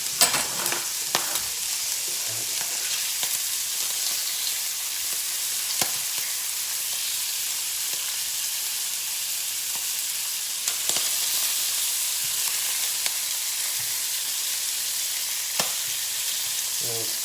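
Fresh hand-dived Orkney scallops frying in a pan, a long, even, loud sizzle with occasional sharp pops and clicks, heard up close without speech.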